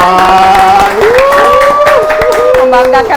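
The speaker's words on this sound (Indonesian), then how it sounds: "Wow, tepuk tangan." Studio audience applause for a young vocal trio on an Indonesian chat show, clapping and crowd noise under sustained sung or spoken voice tones throughout.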